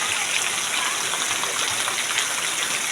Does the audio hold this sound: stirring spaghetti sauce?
no